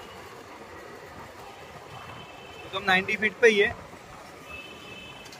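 A metro train runs on the elevated line overhead, heard from the road below while riding a motorbike: a steady, broad rumble fills the whole stretch, with a man's short burst of speech over it midway.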